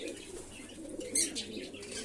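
Pigeons cooing in a loft, low soft burbling calls with a brief flutter of wings partway through, quiet and steady without talk.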